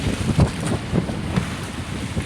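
Strong gusting wind buffets the microphone out on open water, with rhythmic low thumps and a constant roar; no voices.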